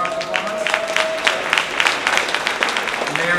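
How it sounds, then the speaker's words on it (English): Scattered applause from an audience at a Tampa Ignite event greets a Hillsborough County commissioner, with fairly sparse, uneven claps running steadily for a few seconds beneath a faint hum. "Give him a round of applause"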